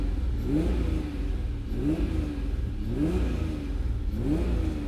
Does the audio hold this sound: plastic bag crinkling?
no